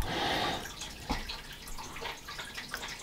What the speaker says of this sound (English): Now we're going to drop the rig in.